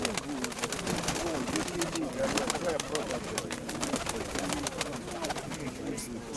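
Repeated low pigeon coos roll through the clip over a steady outdoor background at a fair in Pavlohrad, with a voice speaking now and then.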